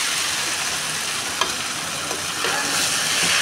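Onion, green chili and whole cumin crackle and sizzle in hot oil in a pan, a continuous close fry broken by a few light clicks of stirring, without speech.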